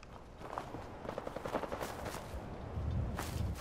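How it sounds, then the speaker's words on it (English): Gunshots in the game Fallout 4: faint, distant bursts of gunfire crackle in quick succession over footsteps and low ambient rumble, growing slightly louder toward the end. "Okay, I hear gunshots."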